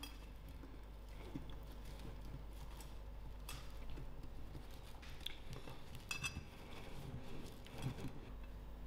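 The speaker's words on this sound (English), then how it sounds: "So I'm going to use my hand and mix this up till it all well coated in." Cauliflower tossed by hand with garlic, thyme and spices in a roasting dish, a faint, steady sound of soft shuffling and occasional light clinks against the dish under a constant low background hum.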